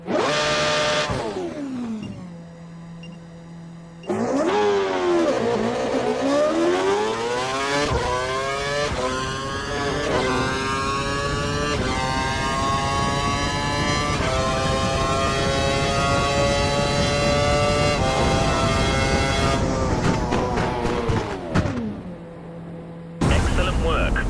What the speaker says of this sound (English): Head down the track accelerating past 257 kph, then brake so that you come to a complete stop in the designated area.